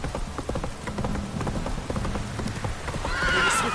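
Hooves clip-clop at a steady gallop on a horse in Witcher 3, with a whinny near the end and a rain-like patter underneath, all fairly close and loud.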